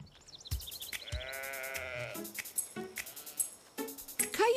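Sheep bleat several times, wavering and nasal, with clinking and light clatter around them; a fairly close, busy farmyard scene.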